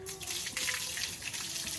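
Water from a bucket splashes and gushes over a goat being bathed, a steady continuous pour lasting a couple of seconds, fairly close and unaccompanied by speech.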